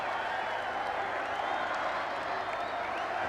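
Large crowd cheering and applauding outside Buckingham Palace at the royal wedding of Prince Charles and Princess Diana, a dense steady roar of distant voices and clapping that holds without a break.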